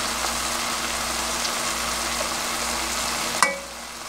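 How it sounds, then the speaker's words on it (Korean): Spicy stir-fried fish cakes hiss steadily in a pan as soy sauce goes in, with a constant close sizzle and a single sharp clink near the end. "진간장 한 스푼 넣습니다."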